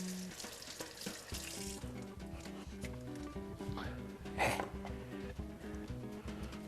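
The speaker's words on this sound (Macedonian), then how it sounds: "Ќе помина малку под вода и ќе го сечеме." Water runs from a tap over an onion being rinsed, a steady splashing stream with a brief louder gush near the middle, faint and close, with light kitchen sounds around it.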